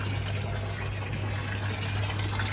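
Water runs steadily from a rooftop aquaponics fish tank through a pipe toward a filtration sub-tank in Singapore, a constant close rushing wash over a low pump hum, no pauses and no voices.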